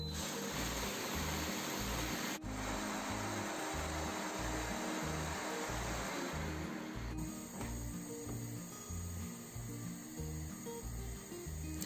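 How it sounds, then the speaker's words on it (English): A kitchen blender whirs loudly while blending wrewre with water, a dense steady motor roar with a pulsing low churn that runs on, briefly dipping and shifting in pitch as the mixture changes. "add the WREWRE to your blender."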